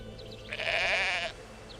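A single sheep in the Black & White game gives one wavering bleat lasting under a second, close and clear over a faint background hum.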